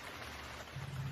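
Steady rain in an animated story sets a soft, even hiss that fills the short moment, with a slightly fuller low rumble toward the end and no voices.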